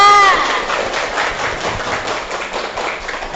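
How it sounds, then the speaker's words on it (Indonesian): Students in a classroom clap for a group that has just finished presenting, a brisk burst of close, uneven hand claps, with a brief voice at the very start. "Beri tepuk tangan dulu untuk kelompok 2."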